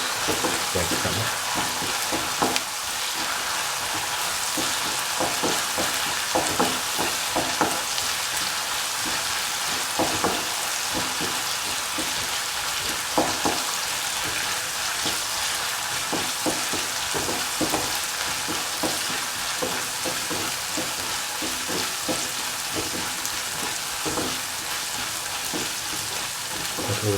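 Garlic fries in a pan for a pickle, a continuous bright crackling sizzle with scattered pops and stirring scrapes, close and steady throughout.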